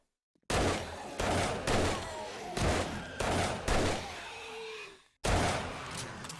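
Magnum Enforcer handgun firing in the 7 Days To Die video game, a run of loud, close blasts spaced roughly half a second apart, each with a short ringing tail, followed by a brief silence and one more shot.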